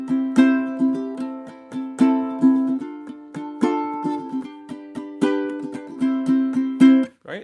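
A ukulele strums a 1-6-2-5 chord progression in C, with clear plucked chords ringing close and bright in a steady rhythm of several changes, played alone without any voice.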